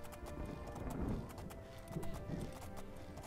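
Steady clip-clop of horse hooves trotting in The Elder Scrolls IV: Oblivion, with a faint whinny-like sound and light background noise.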